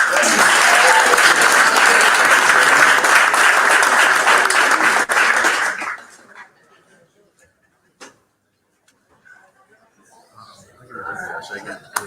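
Loud, dense audience applause at a pro athlete-to-investor panel event in Miami, steady for about six seconds before cutting off to near silence with scattered faint noises and a brief murmur near the end.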